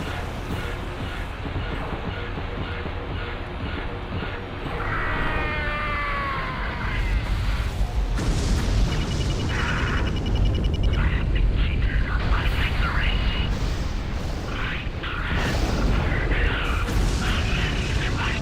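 Missile launches and explosions sound in a Wing Commander Saga space battle, with whining streaks and sharp blasts over a constant engine drone while a voice talks.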